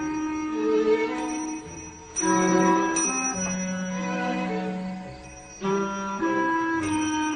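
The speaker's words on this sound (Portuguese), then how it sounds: "ele coloca pequenos sinos que tocarão quando elas passarem." Small bells set at equal spacing along a track ring one after another as rolling spheres pass, each bright ding clear and ringing on in a quiet room.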